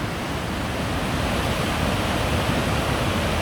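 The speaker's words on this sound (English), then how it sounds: "Attikongas waterfalls." Attikongas waterfall in taiga forest near Rovaniemi, Finland, a loud continuous rush of falling water, broad and steady from start to finish with no voices.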